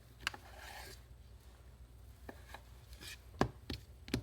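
A knife slices through vegan sausage on a cutting board in a handful of sharp, separate cuts, spaced irregularly against a quiet, near background.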